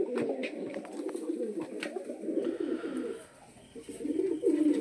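Heavy-booted pigeons, Kerala imported, cooing in a loft, with several overlapping soft low coos close by and a few faint wing flutters and scuffs, a brief lull near the end before the cooing resumes.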